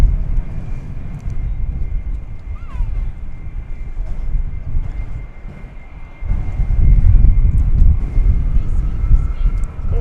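A 23-year-old United airliner in old livery taking off at DFW Airport, a loud low jet engine roar that swells near the end, heard outdoors with wind buffeting and a voice talking over it.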